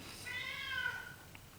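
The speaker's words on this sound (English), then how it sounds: "that's my cat, if you heard her meowing." A single drawn-out cat meow, slightly faint and a little distant, rising then falling in pitch.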